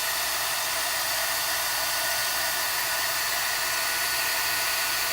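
Heat tool melting gold embossing powder, blowing as a steady, loud, even hiss of hot air that holds unbroken from start to finish with no voices.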